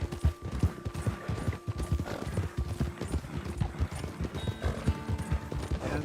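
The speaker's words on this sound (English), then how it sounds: "we got a couple of riders in the road" Hooves of a couple of ridden horses clip-clop along a road, a steady run of sharp, fairly close hoofbeats that continues throughout without talk.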